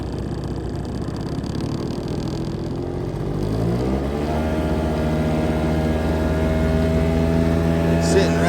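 Honda Dio AF34 scooter engine, carburetor being adjusted, idling and then revving up on the throttle, its pitch climbing and holding at a loud, steady high whine close by.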